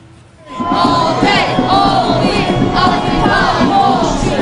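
Large crowd of union workers at a jobs-crisis protest march, a dense roar of shouting and yelling voices rising abruptly after a quiet half second and staying loud and continuous throughout.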